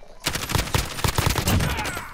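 Rapid gunshots in a shooter video game, a quick burst of close, punchy shots starting after a brief quiet moment and continuing steadily for about two seconds.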